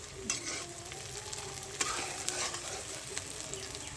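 Butter, onion and garlic fry in a pan with a soft, steady sizzle, while close stirring clinks and scrapes come through at a fairly quiet level and no one speaks.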